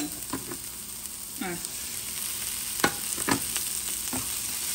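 Onions fried to a golden colour in a pan with peppers being added, a steady soft sizzle with a few scraping stirs of a utensil, close and moderate in level, no voices.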